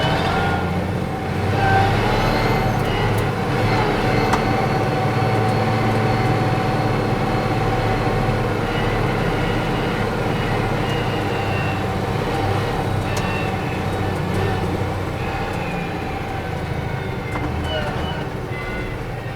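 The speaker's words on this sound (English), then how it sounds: "we're in reverse and high range now." An International Harvester winch truck rolls in high-range reverse, its engine a loud, steady, close rumble that continues without a break, with people talking over it.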